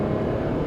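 A 2021 Renault Kiger RXZ turbo with a manual gearbox, driving in sport mode, gives a steady, loud, low engine drone with road rumble that holds even throughout the short stretch.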